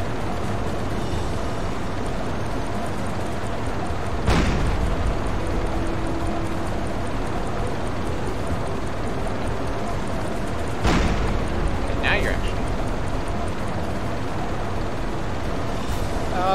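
Two heavy booms from submarine deck guns firing at a ship in the naval game Silent Hunter 3, spaced several seconds apart and standing out from a steady low rumble of sea and engine noise.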